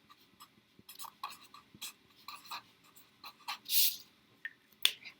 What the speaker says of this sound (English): So let's take a moment to write it down.